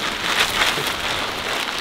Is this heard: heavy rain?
yes